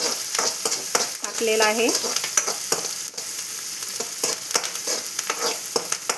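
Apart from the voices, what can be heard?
chopped onions frying in oil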